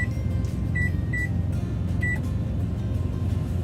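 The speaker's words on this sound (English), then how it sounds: "I've got something else going in the microwave" Microwave oven running inside a truck, a steady loud mechanical hum with a few short electronic beeps near the start.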